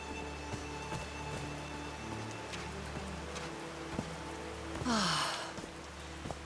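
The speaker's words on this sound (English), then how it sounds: "These drops of rain are so refreshing." Rain falls as a steady, soft hiss with scattered drop ticks on a mountaintop in the video game Call of the Sea, under a faint tonal hum, with a brief breathy sigh near the end.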